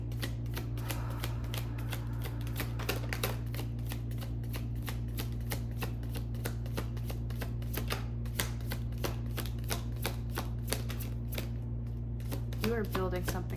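Tarot cards being shuffled by hand, a rapid run of crisp riffling flicks close up over a low steady hum, with brief murmured speech near the end.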